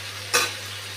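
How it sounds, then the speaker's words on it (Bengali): A single brief scrape and sizzle as bottle gourd is stir-fried with spices in a covered pan, one short burst over a steady low hum. "ঢেকে ঢেকে একটু মশলার সঙ্গে ভাজবো।"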